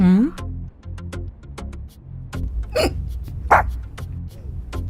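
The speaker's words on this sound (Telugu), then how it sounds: "ఎక్కిళ్ళు వస్తున్నాయా ఆంటీ?" A woman hiccups several times, the sharp little jolts spaced out against a quiet room, with a brief vocal sound at the start.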